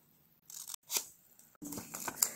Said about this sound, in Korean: 이 중심선에서 반 정도 되는 선까지 가위로 잘라줍니다